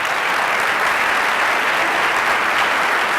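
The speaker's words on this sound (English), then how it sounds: "Please join me in giving a round of applause." An audience at a Santa Monica Chamber of Commerce panel breaks into a full round of applause, loud, dense and even clapping from start to finish with no speech over it.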